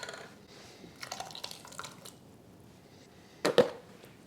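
Capers and their brine pour from a small 3.5-ounce jar with faint dribbling splashes, then two sharper wet plops near the end.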